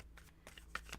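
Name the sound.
shuffling a deck of tarot cards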